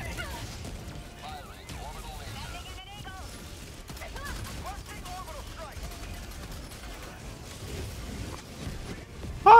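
Explosions and gunfire from a chaotic firefight in the video game Helldivers, a dense continuous barrage of pops and blasts, with people talking and exclaiming over the fighting and a sharp loud burst at the very end.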